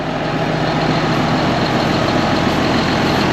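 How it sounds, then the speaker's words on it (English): A heavy lorry engine rumbles steadily and loudly nearby as it arrives, a constant low drone with no voices. "The lorry is coming up from Launceston."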